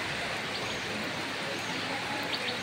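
Heavy rain pouring down on a village, a dense, steady broadband hiss that holds without a break at a constant level, with no voices over it.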